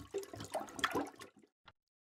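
A toilet gurgles and flushes in the video game Night Blights, a short watery rush of about a second and a half that cuts off abruptly, with a brief splash after it.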